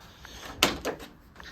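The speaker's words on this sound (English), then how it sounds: "open the door here" Door of a classic Mini car being opened, a sharp latch clunk followed by a softer second knock, close-up and quiet in a calm workshop.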